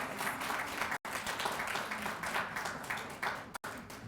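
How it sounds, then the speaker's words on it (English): A round of applause from the audience at a hospital's Black History Month celebration, fairly quiet, steady clapping broken by two brief dropouts, with no talking over it. "Give Christina a round of applause."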